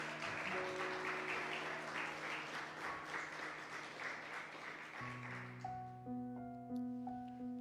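Church congregation clapping during a Spanish-language sermon, a broad sustained round of applause for about five seconds, then giving way to sustained keyboard or organ tones.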